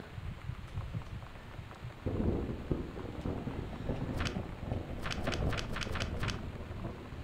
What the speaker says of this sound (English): There should be the sound of rain or something like that.